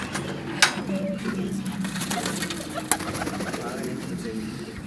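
Pigeons in a rooftop loft coo in soft, low, repeated calls, with a couple of sharp clicks or wing knocks and a busy background of ambient noise.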